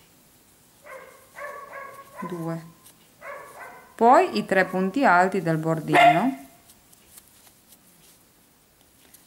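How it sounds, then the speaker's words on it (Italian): A dog barks several times in quick succession, loud and close, after someone speaks quietly during a home crochet lesson. "abbaia proprio quando non deve farlo"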